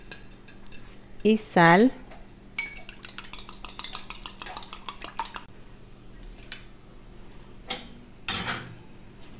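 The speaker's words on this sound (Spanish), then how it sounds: "Batimos dos huevos con un poco de pimienta" Two eggs beaten with pepper in a bowl, a fork or whisk clicking against the side in a quick steady run of sharp ticks, with a few clattering utensil knocks before and after and a brief voice.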